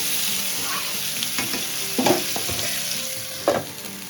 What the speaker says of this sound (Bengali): পেঁয়াজ কুচিটা একটু নাড়াচাড়া করে দিয়ে এবার একটু হালকা ভাজা ভাজা হয়েছে আলুটা দিয়ে দিলাম